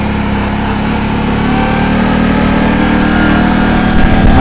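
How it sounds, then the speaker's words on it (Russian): A CFMOTO X8 H.O. ATV engine runs continuously while riding, producing a loud, steady mid-pitched drone with no speech over it. "Очень тяговитый мотор, и ему хватает ньютонов, чтобы крутить прям"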